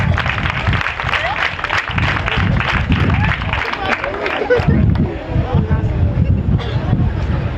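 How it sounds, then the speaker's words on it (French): Applause from an audience at an evening association event in French, dense steady clapping with crowd murmur filling the whole stretch, close and loud throughout. "Sous vos applaudissements, bien sûr."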